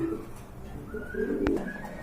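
Big-sized homing pigeons in a pigeon-selling farm coo softly and low, a faint murmuring call with a quiet background and no talking.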